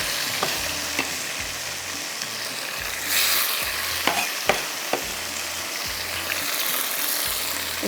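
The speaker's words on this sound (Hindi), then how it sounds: "इसके साथ साथ हमारा गरम मसाला भी फ्राई हो रहा है" Chopped tomatoes frying with garam masala in a pan, a steady close sizzle broken by repeated stirring scrapes and occasional light clinks, with no talking.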